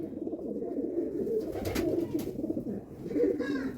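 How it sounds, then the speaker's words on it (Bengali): Madrasi pigeons of the Bengal line, kept in a home loft in Kolkata, coo in soft overlapping rolling calls close by, steady throughout with faint room noise. "এটা আমার ঘরে পার্সোনাল স্টকের পায়রা"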